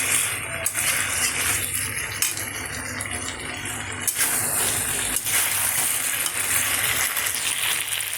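Vegetables for Bengali shukto sauté in a pan with a continuous, close sizzle and the occasional rattle of stirring throughout, with no talk.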